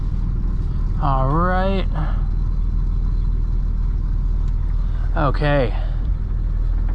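A 1988 Dodge Ram B250 Safari van backs into a parking spot, its engine giving a steady, close low rumble throughout while someone speaks briefly twice.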